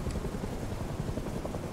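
A helicopter in the video game Rust, a steady, close, buzzing rotor thrum holding without a break.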